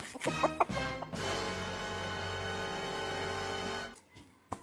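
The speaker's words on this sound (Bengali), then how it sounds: "এই যে মুরগিটা কিনেছি" A chicken bought at market gives a few sharp clucks up close, then a sustained, loud squawking call for a few seconds before it trails off.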